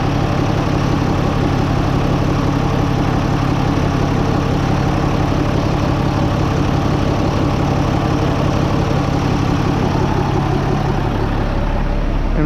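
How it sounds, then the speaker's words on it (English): Constant low engine drone with a steady mechanical hum, close and loud throughout, from a running 2005 Freightliner M2 truck with its air conditioning compressor engaged; no one speaks. "And now the compressor stays running all the time. It doesn't shut off."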